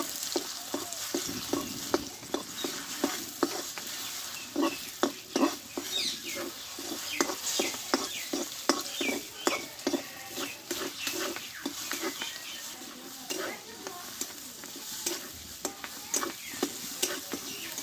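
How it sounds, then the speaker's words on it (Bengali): Beaten egg seasoned with salt and chaat masala sizzles in a pan and is stirred, with steady frying hiss and repeated scraping clicks close by, no talk. "ডিমটা গুলিয়ে নিয়েছিলাম এখানে ঢেলে দেবো আমি এভাবে একটু ডিমটা একটু ভেজে নেবো আগে"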